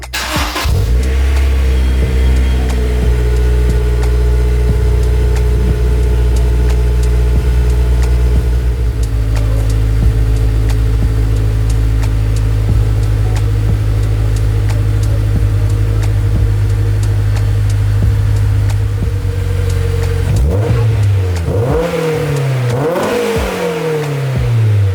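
A Honda S2000's engine, fitted with a new HKS 3-inch exhaust, starts up and roars steadily at a loud, deep idle with a throaty exhaust rumble, then revs sharply up and down a couple of times near the end.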